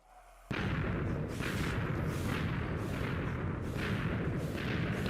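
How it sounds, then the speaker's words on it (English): In Minecraft, the Wither boss spawns with a sudden deep blast after a quiet moment, then a sustained heavy roar that pulses with repeated booming swells. It is loud and close with no talking. "Detonation coming."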